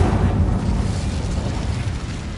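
An Incendio fire spell from Hogwarts Legacy, cast inside an old mine, erupts as a loud, sustained fiery roar that rumbles steadily for a couple of seconds without any speech.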